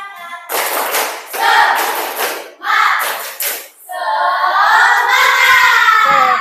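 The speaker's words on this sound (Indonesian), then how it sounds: "Tepuk semangat lagi dong" A class claps hands together in a rhythmic cheer pattern, bursts of clapping broken by short pauses, with voices chanting and shouting over the final stretch.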